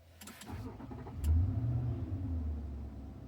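A Nissan Y62 being switched back on: a brief click, then the engine catches partway through and settles into a steady, fairly loud low idle rumble nearby.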